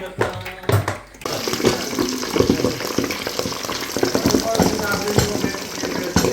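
Two liters of cooking oil poured into a pot for frying crispy pata, a continuous splashing, gurgling liquid stream with some clatter, at close range.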